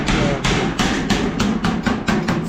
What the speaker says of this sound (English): And see for the first progress of hammering the iron sheet.